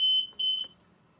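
Hill-Rom Centrella hospital bed exit alarm, a steady high electronic tone sounding in a few short pulses, fairly faint, then stopping.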